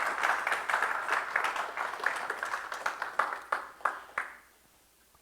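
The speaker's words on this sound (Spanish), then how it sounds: "Regáleme otro aplauso para nuestro Señor." A church congregation applauding during a service, a dense burst of hand claps that thins into a few scattered claps and dies out after about four seconds, followed by silence.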